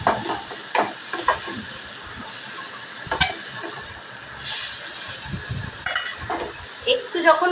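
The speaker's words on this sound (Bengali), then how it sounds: "এটাকে একটু ফ্রাই হতে দিতে হবে ভালো মতন" Ground spices with black pepper fry in a pan, making a continuous hissing sizzle punctuated by sharp, irregular stirring scrapes and clinks close by. No voices are heard.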